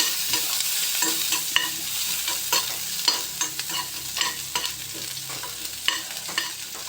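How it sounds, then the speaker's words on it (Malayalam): Shallots fry in hot oil after mustard seeds have popped, giving a continuous close sizzle with frequent crisp crackles and scraping stirs, with no voices. "കടുക് കൂടെ പൊട്ടുമ്പോൾ ചെറിയ ഉള്ളി ഇട്ടൊന്ന് മൂത്ത് വരുമ്പോൾ"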